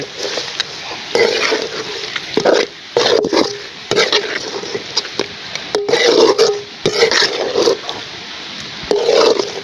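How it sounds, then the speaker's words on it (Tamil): Quail pepper fry being stirred in a pan, loud close bursts of scraping and sizzling in irregular strokes, alone with no talk. "இப்போ மிக்ஸ் பண்ண வேண்டியதான்"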